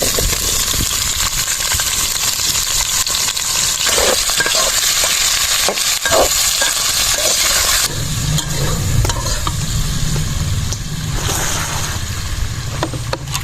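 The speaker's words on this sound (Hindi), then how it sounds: "तो माशाल्लाह घी डालने के बाद आलू शामिल करेंगे फौरन।" Potatoes sizzling and frying in ghee in a pot over an outdoor village fire, with steady loud crackling and hissing, occasional clinks and stirring scrapes, and the frying sound deepening midway as the pan settles.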